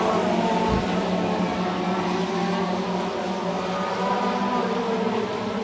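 Dirt-track race cars roaring around the oval during a 60-lap feature, a dense continuous engine drone with a distant, steady wash of sound.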